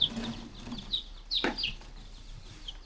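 Several young chicks crowd a brooder on a homestead, giving high, thin peeps and chirps in scattered bursts, close to the listener, with one louder cheep standing out partway through.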